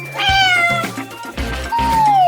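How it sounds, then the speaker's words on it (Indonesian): A cat meows in a cartoon-style scene, sweet drawn-out calls repeated three or four times in quick succession, clear and close, with no talk over them. "Dia jadi pemilik kucing termanis ini."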